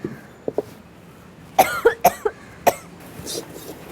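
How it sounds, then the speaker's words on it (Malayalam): Several sharp, close coughs in a short burst, a couple of lighter ones first and then three or four louder hacks, in a home kitchen while crab is being cooked. "ചേച്ചിക്ക് മാത്രം ചുമ അല്ലേ?"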